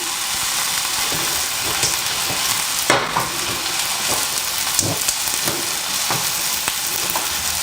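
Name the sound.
potatoes and onions frying in a pan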